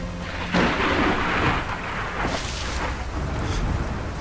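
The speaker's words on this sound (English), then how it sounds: "As much as I love that thunder effect, it is very loud." Loud, rumbling thunder rolls through an ARK: Survival Evolved night scene, with several booming swells over steady rain and storm noise, close and dominant throughout.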